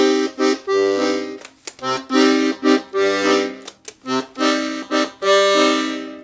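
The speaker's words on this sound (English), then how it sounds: "We have 120 basses and three registers that sound like this." Black Catena 120-bass piano accordion playing its bass buttons in a bouncy rhythm of repeated chord and bass stabs with short gaps, full and close with no voices.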